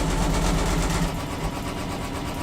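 An embroidery machine stitches out an in-the-hoop earbud holder design, giving a steady, close mechanical hum and rapid needle chatter that runs unbroken with no voices.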